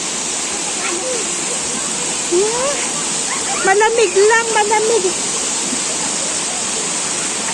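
Water pouring steadily from a pipe down to a lower spot at an outdoor family gathering, forming a continuous loud hissing rush throughout, while people talk briefly partway through.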